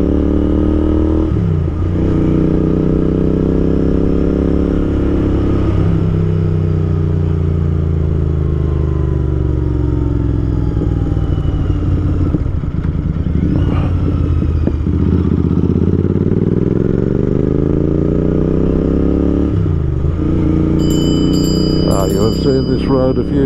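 A Royal Enfield Interceptor motorcycle rides along a country road, its engine loud and close, rising and falling through gear changes with repeated revving sweeps and some wind rumble.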